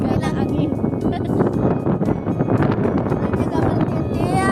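Strong, gusty wind buffets the microphone at an outdoor picnic near the sea on a stormy day, a loud continuous roar with bursts throughout, while people talk underneath.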